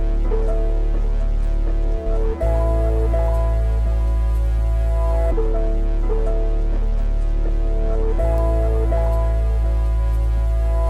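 A layered synth bass pattern built from an Analog Lab bass stacked with a second bass, looping steadily and loudly with deep sustained low notes and tonal melodic layers, shifting pitch every few seconds and running throughout without speech.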